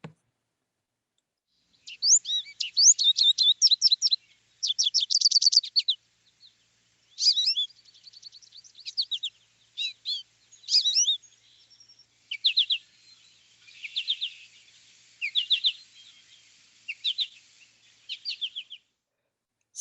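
Song of a yellow-plumaged backyard bird, heard as a series of bright, clear chirping phrases repeated in rhythmic bursts, close and alone against a silent background.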